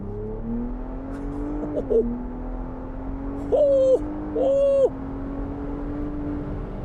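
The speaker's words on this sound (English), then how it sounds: "So I'm gonna set the exhaust for sport mode, and we're gonna floor it onto the freeway." A 2022 Ford Bronco Raptor's engine drones steadily, close and loud, as it accelerates at full throttle onto a freeway with the exhaust in sport mode, with two short tonal whooping bursts rising above it midway.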